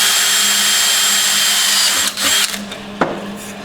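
A power drill whines steadily at high speed, then slows and stutters as it bites into wood, ending with a few short knocks, loud and close.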